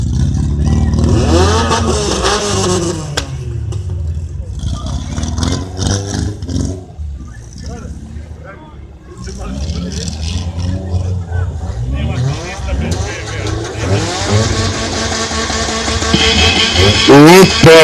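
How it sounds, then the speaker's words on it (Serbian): A car engine at an arena motorsport event revs hard against the rev limiter in loud, rising and bouncing bursts, with crowd noise and shouting voices mixed in. "Ajde neka čuje ceo srpski Miletić kako zvuče blokade motora."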